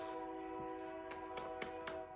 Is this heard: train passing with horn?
yes